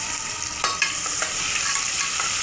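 Chopped onions sizzle steadily in hot oil while being stirred for chicken biryani, with a few distinct spatula scrapes standing out against the constant frying hiss.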